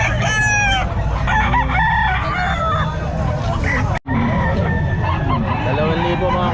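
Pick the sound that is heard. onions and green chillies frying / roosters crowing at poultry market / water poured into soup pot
roosters crowing at poultry market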